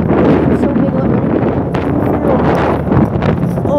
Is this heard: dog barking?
no